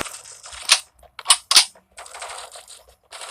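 Gunfire in the mobile shooter Forward Assault: a few sharp, close shots in quick succession, with short bursts of clattery firing before and after, sounding alone without voices.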